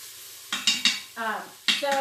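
Vegetables sizzle in a pot while a utensil stirs and clinks against the sides in short bursts, with a faint voice briefly underneath.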